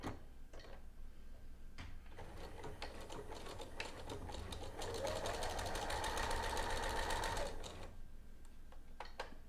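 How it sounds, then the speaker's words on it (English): A home sewing machine with a quarter-inch foot runs a steady rapid stitch along a sleeve seam, starting and stopping in short bursts, close and fairly quiet. "I'll just sew this on with a 1/4 inch seam allowance"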